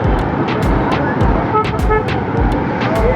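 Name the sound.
car horns honking in road traffic jam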